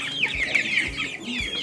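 Young chickens cluck close by in a rapid run of short, chattering calls over about two seconds, with no voices.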